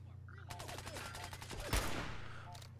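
Gunfire in the video game Fallout 4, a rapid burst of shots from an enemy blind firing, with one heavier blast near the end, all fairly quiet against a low steady hum.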